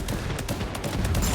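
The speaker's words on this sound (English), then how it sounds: "just finish it off with a nice little explosion here" Explosion from Super Mecha Champions: a loud, dense burst of rapid cracking blasts crowding together with no break, like a rattling chain of detonations, lasting just over a second.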